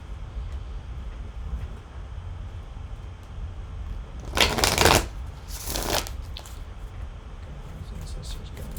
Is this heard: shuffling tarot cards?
yes